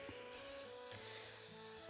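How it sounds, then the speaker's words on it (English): Aerosol spray can hissing steadily while priming miniatures, a continuous close, fairly loud burst of spray that starts after a brief pause and runs to the end. "you notice I'm kind of spraying at an angle"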